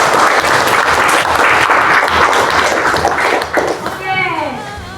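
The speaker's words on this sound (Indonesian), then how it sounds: "Oke, berikan aplaus." A class of children clapping together in steady, loud applause that fills the room, then fading as a voice and chatter rise near the end.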